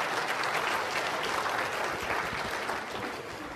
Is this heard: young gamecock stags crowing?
no